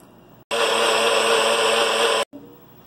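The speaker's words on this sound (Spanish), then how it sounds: "Vamos a licuar primero un poco y después licuamos lo demás." Blender whirring through watermelon and ginger, one steady loud burst of under two seconds that starts and stops abruptly, with quiet kitchen background before and after.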